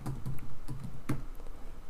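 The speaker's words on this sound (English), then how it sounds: "Now if you click on one, start typing" Fingers tap a computer keyboard in a quick irregular burst of close clicks, spaced unevenly over two seconds, with no talk.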